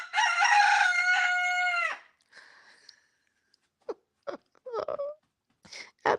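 A rooster gives one long, loud, close crow, followed by quieter clucks and scattered short rustles and clicks nearby.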